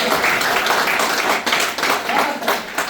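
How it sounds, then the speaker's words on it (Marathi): An audience claps and applauds in a dense, sustained wash of hand claps, loud and close, with no clear speech over it. "जोरदार टाळ्या होऊ"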